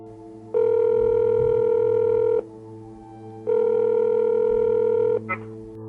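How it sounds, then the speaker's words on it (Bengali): Two long, loud telephone ring tones from a Bengali detective audio story, each about two seconds and separated by a short pause, with a faint low hum underneath. "প্রথমবার রিং হওয়ার পর কেটে যায়।"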